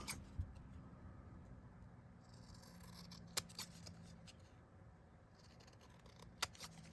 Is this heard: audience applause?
no